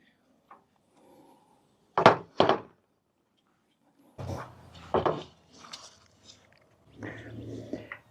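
A knife cuts through fried lion's mane mushroom, giving two sharp thunks against the board, then a few softer scraping and tapping strokes, all fairly faint and close.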